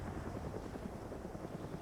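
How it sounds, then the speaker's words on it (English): A military helicopter in the game Arma passes overhead, a steady rotor drone with broad low rumble and wind-like noise, moderately loud and continuous throughout, with no talk. "And you got Op 4's chopper flying over."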